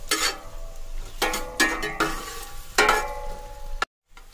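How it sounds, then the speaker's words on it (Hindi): Sliced onions fry in a pot over a medium flame for chicken biryani, with a bright sizzle broken by several loud stirring and scraping bursts before a sudden cut to silence. "ये सारे प्याज मैं इसके अंदर ऐड कर दूंगा और प्याजों को मैं गोल्डन ब्राउन हो जाने तक फ्राई कर लूंगा मीडियम फ्लेम पे"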